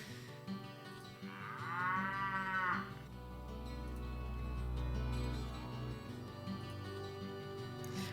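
Cows moo in the Diablo Belzebub video game: one clear drawn-out low moo, then a deep, sustained lowing over a steady background of game sound, with no speech.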